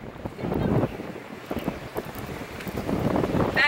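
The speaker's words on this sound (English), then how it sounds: "It's just a little bit windy." Wind buffets the microphone in a steady, rumbling roar that swells and dips, with no voices over it, in Hope Town, Bahamas.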